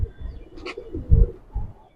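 Giribaz pigeons in a loft cooing nearby, a few low soft coos repeating in short pulses with a faint higher note between them.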